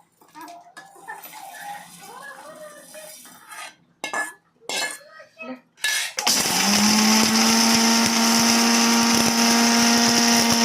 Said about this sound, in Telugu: వేయించుకున్నవన్నీ మిక్సీ పట్టేసుకుంటుంది మసాలాలు.